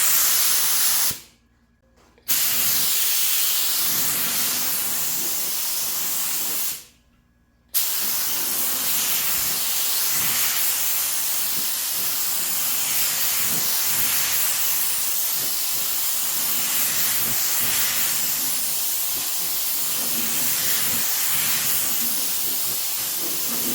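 A steady, loud hiss of ghost pearl paint from a spray gun with a PPS cup adapter, broken by two short pauses before continuing unbroken to the end.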